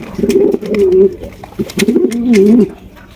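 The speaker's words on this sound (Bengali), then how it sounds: "এখানে দেখতে পাচ্ছেন চমৎকার এক জোড়া ডেনিশ কবুতর। এটা হচ্ছে ব্ল্যাক ডেনিশ" A pair of black Danish pigeons coo close by in two clear, rolling bursts separated by a brief pause, with no talking.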